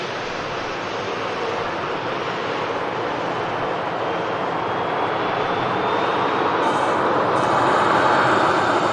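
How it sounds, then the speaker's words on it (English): A Ryanair airliner at Manchester Airport produces a loud, continuous broadband jet roar that slowly swells over several seconds, with a faint rising whine on top and no talking. "Ryanair just vacating from Dublin."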